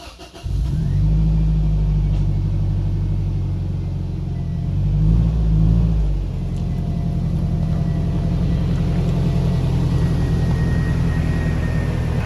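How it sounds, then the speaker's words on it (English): A rebuilt Toyota Tacoma pickup on a test drive gives a steady, loud low engine rumble and road drone, swelling briefly midway as it accelerates, with no talking. "I'm gonna go take it on a quick test drive, just make sure everything's okay."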